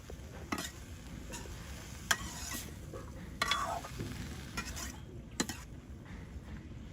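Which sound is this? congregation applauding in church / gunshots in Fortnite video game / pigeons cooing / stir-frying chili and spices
stir-frying chili and spices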